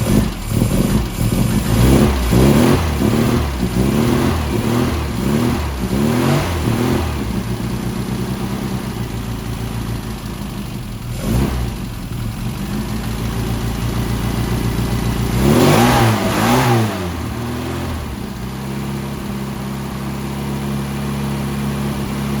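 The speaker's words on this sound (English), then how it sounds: "we're going to do a cold start and see if it actually works" A car engine cold-starts and is revved repeatedly, giving a series of rising and falling revs in the first seconds, a lower steady idle, then another burst of revving before settling back to idle, close and loud.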